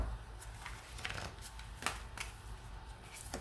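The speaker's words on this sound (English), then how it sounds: "You heard me shuffling." Tarot cards being shuffled by hand, a soft continuous riffling and flicking of card stock with several crisper snaps, close and fairly quiet with no talking.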